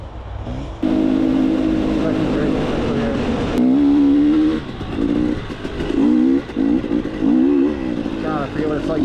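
A dirt bike rides on sand on a South Florida trail, its engine droning and revving in uneven surges and pitch sweeps, close and fairly loud, with a voice talking at times over it.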